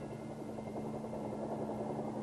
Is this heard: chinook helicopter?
yes